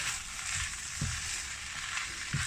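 Green onion stirred through chicken and bacon fried rice over raised heat, a steady close sizzle with a few soft scraping stirs, no voices.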